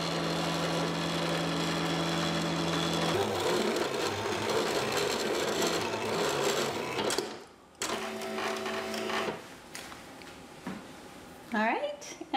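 A Silhouette cutting machine slices thin fabric on a mat, giving a steady mechanical whir with a strong tonal hum and motor pulses that shift and pause partway through, ending in brief clatters.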